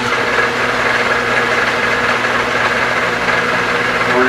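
A mini mill spinning at 1115 RPM while cutting a dovetail in a 1911 pistol slide, giving a steady, loud, continuous mechanical hum with a faint whine and no pauses.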